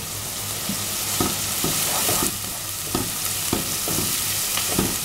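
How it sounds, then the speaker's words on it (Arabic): Onion and garlic sauté in a hot pan, giving a steady close sizzle. A spoon stirs and scrapes the pan in repeated soft knocks, with no talk. "واشوح بقى البصل مع الثوم كده."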